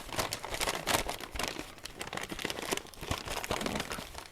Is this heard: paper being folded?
yes